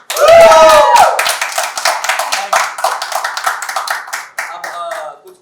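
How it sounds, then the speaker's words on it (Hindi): A studio audience at a talk-show interview breaks into clapping after a brief voice. The applause is close and lively, then tapers off unevenly toward the end. "तो इस बात में हो जाता है ताली"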